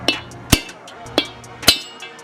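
A hammer strikes metal while driving out a bearing race from a BMW E46 M3 differential, with four sharp ringing blows at uneven intervals, close and loud, each followed by a short decay.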